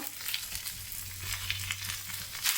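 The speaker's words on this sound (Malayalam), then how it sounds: "ഇതിൻ്റെ ഈ വെള്ളം കിണിച്ചിട്ട് മാറുന്ന വരെ നമുക്കിങ്ങനെ പ്രസ് ചെയ്ത് ഫ്രൈ ചെയ്തെടുക്കാം" Chicken fries in a pan while pressed down with a stone, a close, steady sizzle and crackle with soft scraping, no talk.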